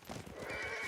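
Horse in the video game Ghost of Tsushima gives a short neigh, with hoof clip-clops mixed in, quiet and brief with no voices.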